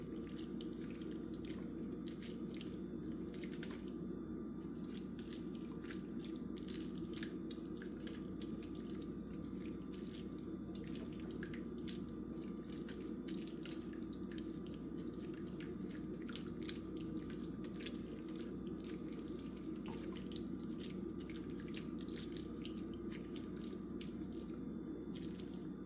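Cherry juice dripping and trickling as cherries are squeezed for syrup, a continuous wet patter with many small distinct drips, close and fairly quiet throughout.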